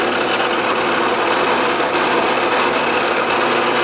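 A steady high-pitched whirring of a center drill boring metal, running continuously and loud, an even mechanical whine with no talking.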